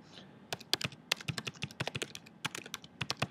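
Rapid, uneven keystrokes clatter on a computer keyboard, close and crisp, as a comment is typed out in quick bursts with short pauses.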